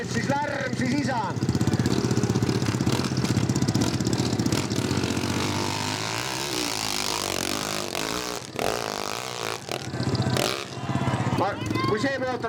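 A motorcycle engine runs steadily and loudly at a muddy hill-climb event, the note shifting and dipping toward the end, with people talking over it.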